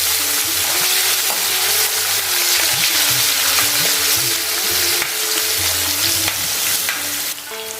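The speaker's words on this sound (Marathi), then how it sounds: "कढीपत्त्याची पाने सुद्धा मी घालते आता, आणि कांदा आपल्याला गुलाबी रंगावरती व्यवस्थित परतून घ्यायचा आहे।" Onions and curry leaves fry in a pan for a side dish of okra, eggplant and chillies. A steady, loud, close sizzle runs throughout with occasional stirring scrapes, and no one speaks.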